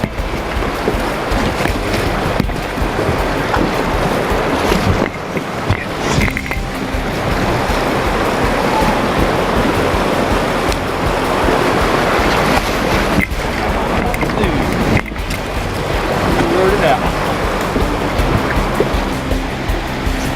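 Rapids on the Haw River roar continuously and loudly, a dense broadband rush of churning water that never lets up.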